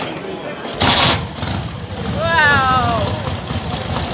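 A Velocette motorcycle engine fires up with a loud burst, then settles into a low, steady idle nearby, while a voice exclaims in admiration partway through.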